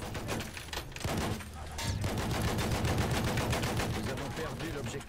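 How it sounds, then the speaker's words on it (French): Rapid machine gun fire bursts continuously in the video game Battlefield 1, dense and loud with overlapping shots and distant booms throughout. "Attention, mitrailleuse!"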